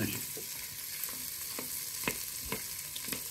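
Two potatoes dropped into a pot for cream of leek and potato soup, a soft continuous sizzle punctuated by several distinct thuds and stirring knocks at roughly even intervals, fairly quiet and without speech.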